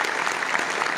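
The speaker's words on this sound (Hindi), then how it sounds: "तालियां तो बजाओ भाई।" Brief burst of audience applause honouring a poet at a stage event, a steady wash of clapping lasting about a second with no voices on top.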